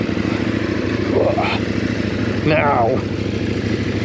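A CFMoto 800 NK motorcycle engine hums steadily on a ride beneath a voice, with two brief rising revs that climb and fall within the first three seconds.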